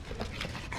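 A dog panting in Dragon Age: Origins, a short run of quick breathy pants with a faint whimpering edge, close and fairly steady with no talk over it.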